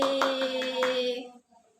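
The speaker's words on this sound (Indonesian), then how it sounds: "kita tepuk semangat dulu ya. Tepuk semangat." Children doing a 'tepuk semangat' clapping chant in a classroom: a few quick rhythmic hand claps over a sustained tonal voice, then cutting off abruptly into near silence.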